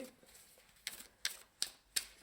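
Tarot cards from a Crystal Vision deck being shuffled by hand, four crisp riffling snaps spaced about a third of a second apart over a quiet room, with no talking.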